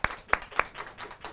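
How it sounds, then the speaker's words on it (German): Audience applause at a live bookshop reading and music evening: three sharp claps stand out, followed by a softer scattering of claps from a small crowd, brief and fairly close. "Ich bitte um einen kleinen Applaus."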